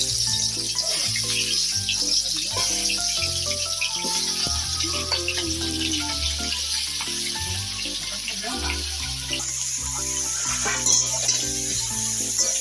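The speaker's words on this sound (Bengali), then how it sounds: "এগুলো ভালো করে ভেজে নিব।" Fish head pieces coated with turmeric and salt frying in oil, a continuous close sizzle and crackle with occasional stirring and clinking, steady throughout without speech.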